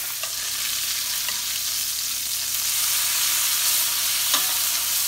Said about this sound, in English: I'm about to throw some bacon on here. I'm gonna throw some bacon. Ah, listen to that.